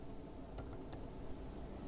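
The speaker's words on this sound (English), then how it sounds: "Then just start typing Zoom" A handful of light, quick keystrokes on a Mac computer keyboard as a short word is typed into a search box, faint and close, with no talking.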